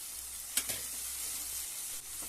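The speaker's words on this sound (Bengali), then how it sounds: "আদা বাটাটা দিয়ে খুব ভালোভাবে একটু নাড়াচাড়া করে নেব" Ginger paste sizzles steadily in a hot pan, with a couple of sharp scraping stirs from a spoon near the start over the continuous close frying hiss.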